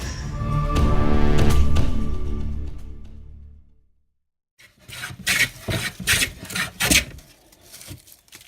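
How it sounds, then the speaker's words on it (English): Wood being shaved by hand into shavings, a smooth rising-and-fading scraping stroke, then after a short silence a series of quicker rasping strokes and thumps, close and loud. "Making shavings! Making shavings, boys! Making shavings!"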